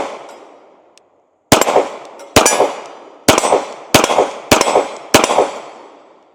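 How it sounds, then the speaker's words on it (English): A Sig P320 SXG pistol with a heavy full stainless frame fires six loud, sharp shots at uneven intervals, each one ringing out with a short echo tail, after a moment of quiet handling noise. "Let's go ahead and take a few more shots with it."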